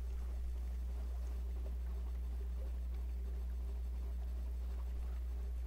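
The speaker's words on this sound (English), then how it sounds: "Full power to the engines." A steamship's engines run at full power in the video game Sunless Sea, producing a constant low droning hum with faint watery wash, steady and unchanging throughout with no voices.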